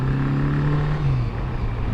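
A 1981 Honda Goldwing GL1100 motorcycle engine hums steadily while riding, a close, continuous low drone with a slight pitch drop partway through and no talk.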